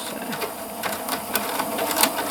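A Pfaff Classic Style sewing machine stitching a semi-automatic buttonhole with the buttonhole foot, a quick run of rattling, clicking needle strokes in an uneven rhythm, close and clear with no talking.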